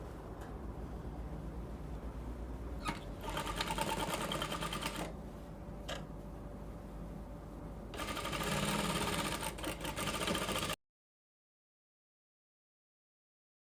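Sewing machine joining the shoulder seams of a gypsy dress with a half-inch allowance, running in steady bursts with brief pauses between runs, fairly close and alone, then cutting to silence near the end.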